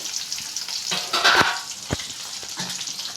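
Mustard seeds, cumin and onion sizzle in hot oil for a vegetable sambar, a steady close frying hiss with a few sharp pops and crackles breaking through, no voices.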